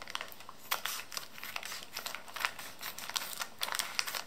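A plastic bag of 3D pen filament is handled and opened, giving repeated close crinkling and rustling in irregular bursts, quiet and without talk.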